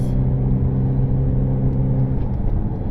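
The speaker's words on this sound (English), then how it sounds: "2018 Shelby Ford GT350. Man, this thing is awesome" Steady, deep engine rumble and whir of a 2018 Shelby Ford GT350 under light throttle, heard from inside the car, loud and continuous with no speech.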